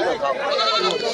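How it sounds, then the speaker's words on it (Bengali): Small goats bleat at a rain-soaked livestock market, their strained, wavering cries close and loud, overlapping in quick succession for about a second. "এখানে দেখতে পাচ্ছি অনেক এই যে ছোট্ট ছোট্ট ছাগল নিয়ে আসছে"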